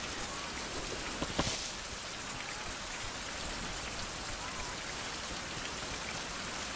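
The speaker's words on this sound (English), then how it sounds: "Gotta get rid of this rain." Steady rain pours down on surfaces in an outdoor wilderness setting within a survival crafting game, a dense continuous hiss with one brief louder splash or knock early on and no talking.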